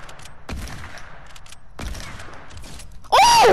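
Gunfire in the Fortnite video game: two heavy, nearby shots a little over a second apart, followed by a sudden loud burst of game sound at the end.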